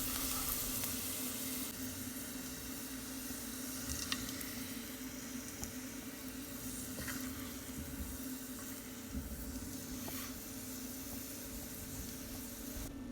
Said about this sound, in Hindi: बटर डालने के बाद जब ये मेल्ट हो जाएगा उसके अंदर मैं डालूँगी चॉप्ड गार्लिक